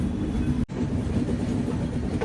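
A train moves along the track opposite, near Secunderabad railway station, a steady loud rumble of rail noise with a brief dropout partway through.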